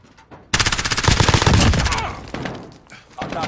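Video-game gunfire bursts in with a loud, rapid automatic volley, closely spaced shots that sustain for a second and a half before fading into a few scattered, quieter reports, with a voice speaking near the start.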